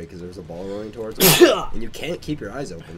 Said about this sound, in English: I gotta sneeze like a motherfucker.